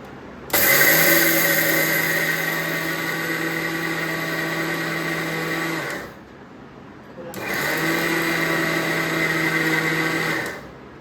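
A mixer grinder grinding sugar whirs loudly and steadily for about five seconds, stops briefly, then runs again for another burst.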